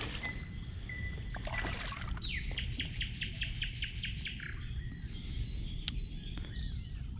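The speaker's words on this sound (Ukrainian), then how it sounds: "соловей над вухом співає, заливається" A nightingale sings close by at a spring fishing spot on a pond, pouring out rapid repeated whistles and trills over a faint background trickle of water, with no talking.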